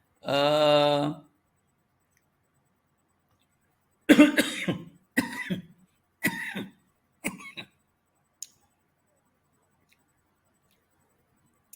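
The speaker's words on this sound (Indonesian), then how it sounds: "mohon maaf batuk-batuk ini" A short tonal hum, then a pause, followed by a string of several harsh coughs in quick succession, fading into a couple of faint clicks.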